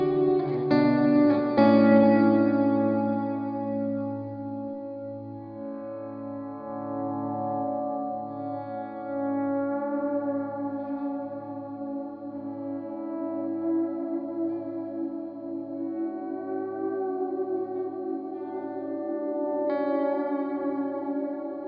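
Electric guitar through a swell and freeze effect pedal with spillover, a struck chord held as a sustained frozen drone with a steady pulsating throb underneath, clear and alone.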